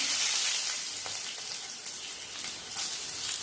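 Whole spices (cinnamon, dried chilli and peppercorns) sizzle steadily in hot oil for a chicken kofta curry, a close, continuous crackling fry with a few brief pops and no talking.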